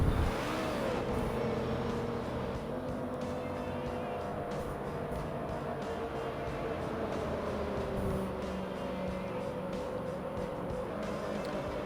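Race cars circle a track in a racing video game at the Homestead Miami event, their engines droning steadily and loudly throughout, with shifting pitch as cars pass and slower cars pit.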